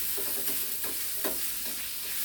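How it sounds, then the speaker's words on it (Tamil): Curry leaves sauté in hot oil, a steady close sizzle with a few brief crackling bursts as they are stirred, no talk. "கருவேப்பிலையும் எண்ணெயிலேயே கூட போட்டு இதை கலரி இதை கொஞ்சம் 3/4 பாகம் வதக்கிக்கணும்"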